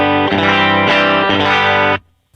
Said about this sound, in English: So this is just the clean tone without it.